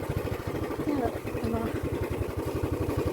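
A motorcycle engine chugs steadily with a regular low pulsing throb, while a person talks over the ride.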